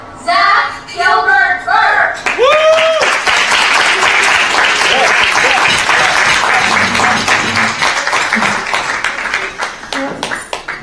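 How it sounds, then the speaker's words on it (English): At a volunteer appreciation event, a crowd breaks into sustained applause, loud and dense clapping that rolls on for several seconds after a short burst of speech, then tapers slightly. "Please join us in thanking and applauding the most wonderful study partner of the year."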